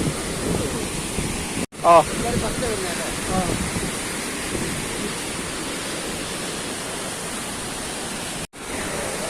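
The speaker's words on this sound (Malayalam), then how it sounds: "ഇതാണ് ആ വെള്ളച്ചാട്ടം, ഒരു ഭീകര വെള്ളച്ചാട്ടാ" Roaring waterfall inside Kakkayam Dam, a loud, continuous broadband rush of falling water filling the whole scene, with a brief spoken syllable and a couple of sudden dropouts in the sound.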